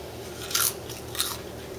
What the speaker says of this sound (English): And then we have the eggplant fries dressed in the, I'm going to try it.